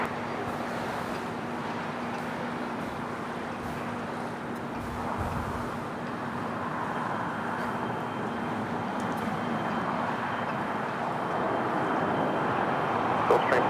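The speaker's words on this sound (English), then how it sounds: "That's the Iberia A350 coming in from Madrid." Iberia Airbus A350 airliner arriving at LAX, a steady broadband jet roar that holds throughout and swells slightly louder toward the end.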